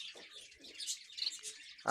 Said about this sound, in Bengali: পুরুষ পাখিটা সুন্দর সুরে শীষ দিয়ে ডাকে